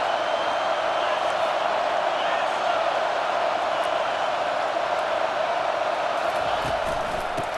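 A stadium crowd roars steadily throughout a college football video game between UCLA and Oregon, a dense, loud, sustained wall of cheering and noise with no breaks, like a hostile road atmosphere.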